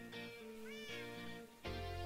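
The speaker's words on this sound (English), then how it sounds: "I heard a cat." A cat meows repeatedly in the Minecraft video game, several synthetic mewing calls close and clear, one rising and falling in pitch, with a louder low-pitched sound entering near the end.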